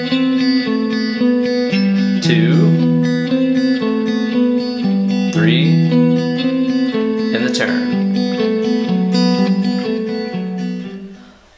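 Electric guitar plays a classical theme three times and a turnaround using hybrid picking, with bright plucked notes, bass lines and pitch-bent slides, loud and close with a steady pulse before fading out at the end.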